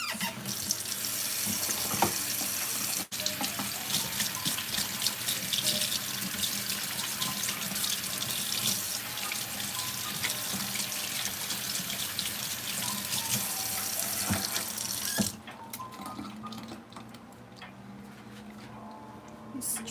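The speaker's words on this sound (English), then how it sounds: "I have to wash my hands." Tap water runs steadily into a kitchen sink during handwashing while baking butter biscuits, a continuous splashing rush that drops to a quieter trickle near the end.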